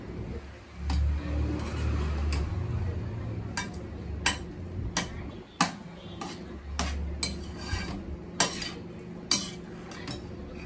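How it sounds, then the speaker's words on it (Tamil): Vadacurry with ghee and coriander stirred in a pan, a metal spoon scraping and clinking against the pan in irregular sharp taps over a low steady background hum. "நல்லா கிளறி விட்டுட்டேன்."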